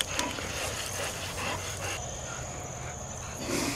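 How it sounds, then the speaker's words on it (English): Hunting dogs catch a wild hog in Central Florida brush, with steady close panting and scuffling throughout and a brief whimper; no squeal is heard. "Two dogs catching it."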